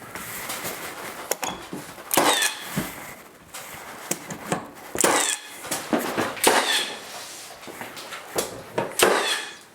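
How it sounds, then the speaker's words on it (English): A 16 gauge finish nailer drives nails into a wooden box beam during installation, giving a string of sharp, loud cracking shots at irregular intervals with quieter handling noise between them. "I'll shoot it with some 16 gauge finish nails"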